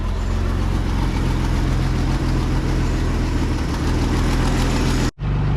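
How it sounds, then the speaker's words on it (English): A classic Isuzu Trooper SUV idles with an exhaust leak, giving a close, steady, rough rumble with a ticking pulse, running evenly before cutting off abruptly near the end. "Still have an exhaust leak."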